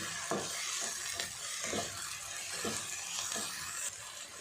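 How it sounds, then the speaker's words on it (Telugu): Onions sizzle steadily in hot oil with onion paste added, for a country chicken curry, while a spoon scrapes and stirs the pan in regular strokes, close up and with no talking. "ఇలా ఆనియన్స్ ఫ్రై అయ్యాక ముందుగా తయారు చేసుకున్న ఆనియన్ ఉల్లిపాయ పేస్ట్ని కూడా వేసేసుకోవాలి"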